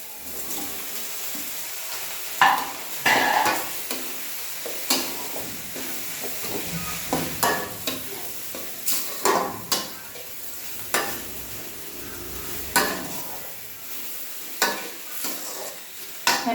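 Pasta being stirred into cooked chopped vegetables in a hot pan, with soft sizzling underneath and a series of sharp scraping clatters of the spoon against the pan at irregular intervals.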